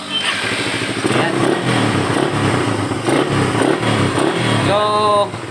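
A Raider 150 motorcycle engine runs after CDI rewiring, idling at a steady, loud, close chug with a brief rise in pitch near the end.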